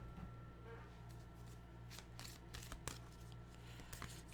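Tarot and animal oracle cards are handled and shuffled, giving soft, close riffling and flicking bursts in a quiet room over a low steady hum.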